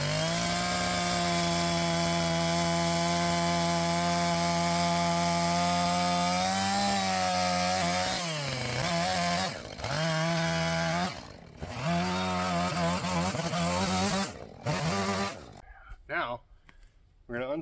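Big chainsaw cutting and shaping a log for an Alaska log cabin, a loud steady engine drone that bogs and revs as the chain bites into the wood, ending in choppy bursts as the cut finishes.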